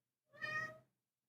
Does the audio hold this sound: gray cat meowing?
yes